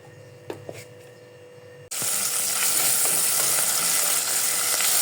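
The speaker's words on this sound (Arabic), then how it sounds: "كنشحر البصله واحد شويه" Chopped onion with a little olive oil and salt hits a hot pan and bursts into a loud, steady sizzle after a few quiet clicks, then keeps frying evenly with no talk.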